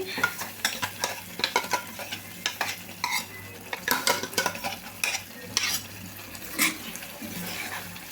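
Ground paste with sesame seeds being fried in oil and stirred, with irregular spatula scrapes and wet slapping bursts over a soft, constant sizzle.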